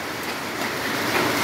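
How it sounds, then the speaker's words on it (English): Hail from a hailstorm in Solan falls noisily, under sunshine, making a dense, continuous rattling hiss with no voices. "Let me see if I can show you the hail. Look at this. Very, very noisy."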